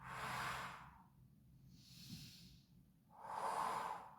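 Strong exhales pushed out through the mouth during a beginners' core and pelvic floor yoga class: two loud, breathy whooshes, each about a second long, separated by a softer airy breath. No one speaks.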